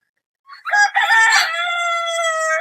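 A farm chicken, a Tiger-breed hen or rooster, crows once loudly and close, a sustained drawn-out call after a few short clucks.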